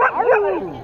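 A young dog gives a short whimpering yip, a high, wavering vocal sound lasting under a second, close by with a little background chatter around it.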